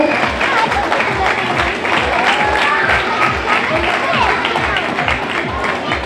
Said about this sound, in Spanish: ese aplauso muy fuerte para las balizas que se llevan ese premio